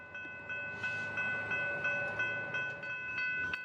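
A Stadler-built lightweight commuter rail train on the Metrolink Arrow line rolls past with a rhythmic clatter over the rails and a steady whining drone, fairly close and moderately loud.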